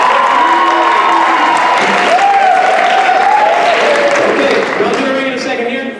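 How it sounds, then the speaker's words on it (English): A loud, lively school audience at a Poetry Out Loud event claps steadily, with whoops and shouted cheers riding over the dense applause until it begins to thin out. "Round of applause"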